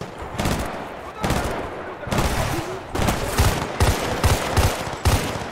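Gunfire in Battlefield Bad Company 2 during a mountain combat mission, with loud, close bursts of rapid shots and heavy booms following one another almost continuously.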